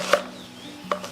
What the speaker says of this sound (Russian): можно нарезать мелким кубиком